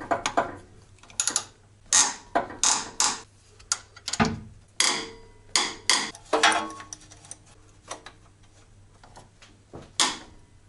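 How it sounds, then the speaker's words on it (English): Wrench working a stuck bolt loose on an NA Miata, giving a run of irregular metallic clacks and ratcheting knocks, close and fairly loud with short gaps between. "the bolt is finally loose"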